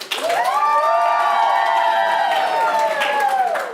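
An improv theater audience at a live main stage show cheers and claps together in a loud, sustained roar of voices that swells and holds for several seconds.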